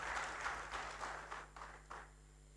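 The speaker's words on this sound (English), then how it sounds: "Please, a round of applause for." Quiet, distant applause from a crowd at an International Customs Day ceremony, fading in a few soft waves over a couple of seconds.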